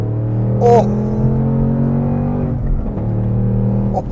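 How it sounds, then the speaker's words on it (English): A 2024 Ford Mustang Dark Horse with a 5.0 V8 and manual gearbox downshifts and accelerates, its deep engine rumble loud and close, with a brief change in pitch partway through and no talking. "I'm gonna put it in sport mode, which is probably what you should be using on the street. Downshift it a little bit."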